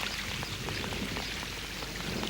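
Steady rain falls in a continuous, even hiss, with scattered drops pattering on a surface and no voices.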